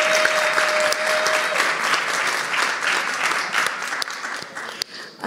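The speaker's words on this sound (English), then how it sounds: "And we applaud you for your courage and your talent." Sustained applause from an audience at a speaking event, a dense steady wash of hand claps lasting several seconds and thinning slightly toward the end.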